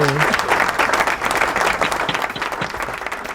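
A crowd at a live session for an organ donation run applauds steadily for a few seconds, dense clapping that stays fairly even and full throughout.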